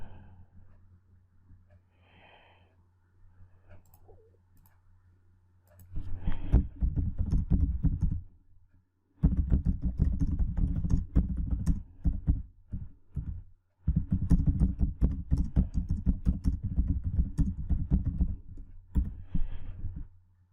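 Bursts of rapid computer keyboard typing during an online poker session: clusters of crisp key clicks over a low steady hum, broken by short pauses, with no talking.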